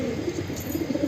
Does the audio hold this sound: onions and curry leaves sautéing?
no